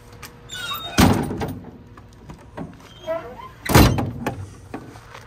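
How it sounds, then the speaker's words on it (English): The doors of a restored hippie bus shut twice with solid, close thunks a few seconds apart, with quieter handling noises in between. "the doors do close."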